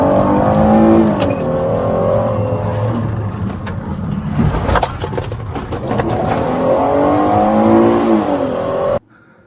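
A car accelerates hard past a traffic stop, its engine rising and falling in loud sweeping revs with road roar, close and dominant, before cutting off abruptly at the end.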